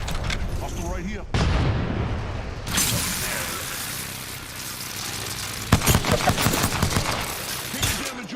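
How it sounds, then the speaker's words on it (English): Rapid bursts of gunfire and explosive blasts in the Apex Legends video game, loud and dense with sharp cracks clustering near the end, while players talk over the action. "I am taking fire, friends"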